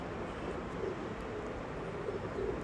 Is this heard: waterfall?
no